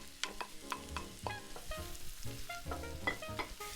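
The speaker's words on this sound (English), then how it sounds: "in with our butter, we're going to toss our onions and cook them down a little bit to make them nice and sweet" Onions fry in butter in a pan, with a steady soft sizzle under repeated scraping and clinking as they are stirred, fairly quiet and close, with no voices.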